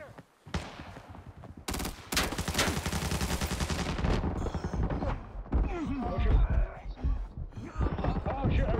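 Gunfire in the tactical shooter Arena Breakout: a couple of sharp shots, then a dense, loud burst of automatic fire, followed by quieter game noise and movement under people talking.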